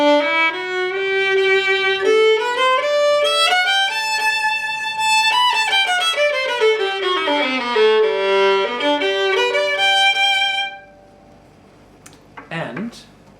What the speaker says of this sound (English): today I am introducing you to the Struna concert violin, which sounds like this